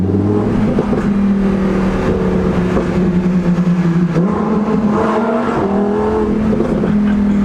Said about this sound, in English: little bit of wheel spin there